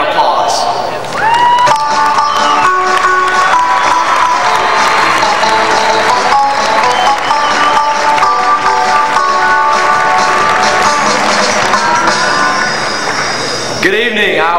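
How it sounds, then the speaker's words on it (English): A large audience at an Iowa FFA state leadership conference applauds steadily as a speaker walks to the podium, a dense, loud sustained wash of clapping with some cheering that lasts nearly the whole time before fading at the end. "give him a round of applause"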